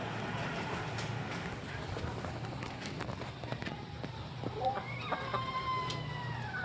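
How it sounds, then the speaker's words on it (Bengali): Big native Bangladeshi roosters crow faintly in the distance near the end, after a stretch of quiet farmyard murmur with the hens, rising and falling calls overlapping softly. "হ্যাঁ, এখানে মোরগ আছে, বেশ বড় বড় দেশীয় মোরগ"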